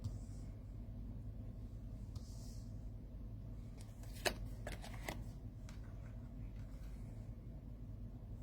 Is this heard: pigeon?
no